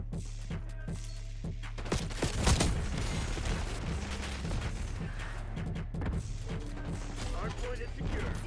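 C4 explosive detonates in Black Ops 6, a sharp, heavy blast partway through amid scattered gunfire and busy match noise, with a game voice heard over it.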